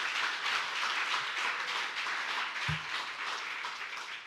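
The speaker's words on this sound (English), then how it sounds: "Yes, give them a big round of applause." A crowd applauds young people at a clubhouse grand reopening, a sustained, moderately loud patter of many hands clapping that stays steady and tapers slightly toward the end, with one low thump partway through.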